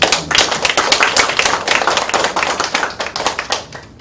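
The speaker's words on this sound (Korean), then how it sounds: "박수로 한번 격려했습니다." A church congregation claps during a worship service, a dense run of overlapping handclaps that holds steady and fairly loud for about four seconds, then thins toward the end.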